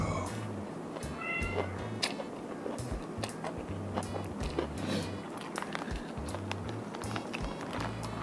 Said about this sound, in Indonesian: sekarang akan ada sound effect bunyi kucing sebab dia nak masuk bilik air